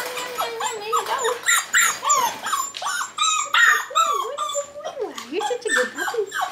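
A young Tamaskan puppy playing a box game whimpers and yips in a quick string of high, wavering whines and short sharp cries, close and continuous.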